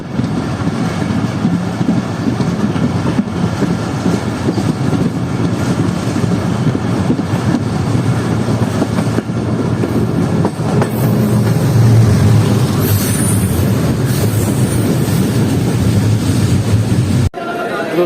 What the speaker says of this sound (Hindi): आहिस्ता आहिस्ता ट्रेन हमारी जो भैया रेलवे स्टेशन से निकल रही है